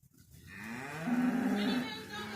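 A single cow or steer gives a long, loud, close moo in a barn, rising and then sustained for about two seconds.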